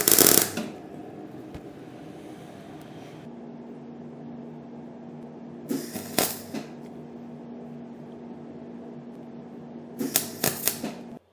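Short bursts of tack welding on a Lambretta scooter handlebar: a loud crackle at the start, two brief buzzing bursts in the middle and another near the end, with a quiet steady hum between them.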